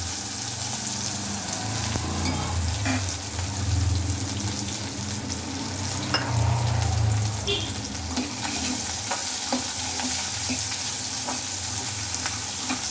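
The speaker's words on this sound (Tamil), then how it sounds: "வெங்காயம் வதங்குற அளவுக்கு எண்ணெய் ஊற்றிக்கோங்க நல்லா இது வதங்கட்டும்" Onions sizzle loudly in oil in a pan for a crab curry, frying steadily up close while a spoon stirs them, with scraping rustles and no voices.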